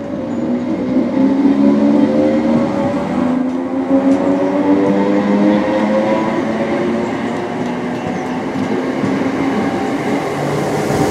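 A ScotRail passenger train runs steadily, heard from on board with a continuous rumbling roar, faint rail clatter and whining tones that slowly shift in pitch.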